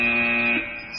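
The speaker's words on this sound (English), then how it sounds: "Someone's on the buzzer." Quiz show buzzer sounding a sustained electronic tone for about half a second, loud and close, then a fading tail, with no voices.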